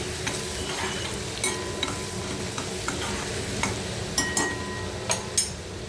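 Green chili paste sautéing in hot oil for a spinach palak gargata dish, a constant soft sizzle broken by sharp, irregular clicks of a spatula against the pan.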